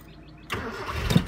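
An older car engine is cranked over with a bit of choke applied. It catches after half a second and runs rough and uneven, close by, with no voices.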